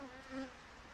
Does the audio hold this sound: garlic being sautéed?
no